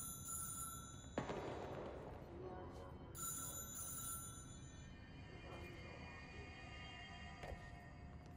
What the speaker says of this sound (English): Telephone stopped ringing.